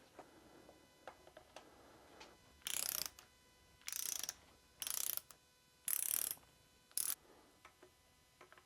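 A ratchet wrench clicks in short, fast bursts while engine bearing cap nuts are torqued during an engine rebuild, about five crisp ratcheting runs with quiet pauses and faint metallic handling between them, close up.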